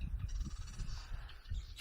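A bird calls repeatedly at close range beside a desert spring choked with bamboo on the Mojave's Old Spanish Trail, with harsh crow-like caws over low rumbling background noise.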